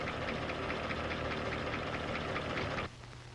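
An older car engine runs with a steady, rapid ticking clatter from mechanical valve lifters, heard as a continuous rhythmic rattle that cuts off abruptly near the end.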